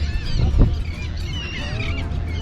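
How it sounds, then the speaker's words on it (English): Several birds call and honk over a steady outdoor background on a beach at low tide in the Ocean Cay Marine Reserve, scavenging with overlapping cries near and farther off. "So it's getting really noisy with birds."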